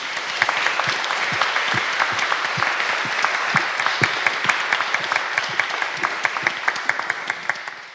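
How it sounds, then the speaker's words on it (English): A large audience at a panel discussion applauds the panelists with steady, dense clapping that holds for about eight seconds before fading at the very end. "Round of applause for the panelists, please."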